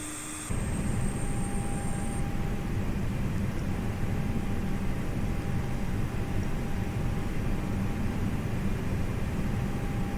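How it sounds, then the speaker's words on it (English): An A320neo APU starts up in Microsoft Flight Simulator 2020: a brief high whine gives way to a loud, steady rushing roar with a constant tonal hum, heard close and without voices. "So let the APU start up."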